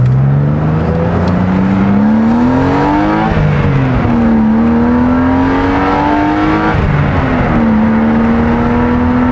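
A BMW Z3 M car's small engine revs hard while driving with the window down, its pitch climbing steadily then dropping at each upshift, loud and close, with a whirring, racy edge and no talking.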